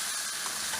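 Sliced karela (bitter gourd) and onion stir-frying in a pan give off a steady, close, even sizzle with no talking.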